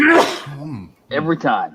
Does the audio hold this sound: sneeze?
yes